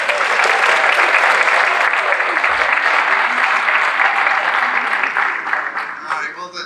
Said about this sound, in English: the applause is for me